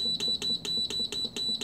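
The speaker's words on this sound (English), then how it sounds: "Sorry, lots of beeping." An enameling kiln's electronic controller beeps repeatedly, a steady string of sharp, high, evenly spaced electronic beeps, close and loud, with no speech.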